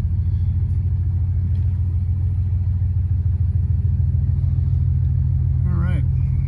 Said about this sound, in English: Starts right up. It idles and accelerates decent too.